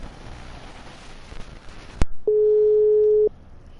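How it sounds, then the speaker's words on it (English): A phone call rings out: after a sharp click, one long steady electronic ringback tone sounds for about a second, clear and alone over faint background hiss. "It's ringing."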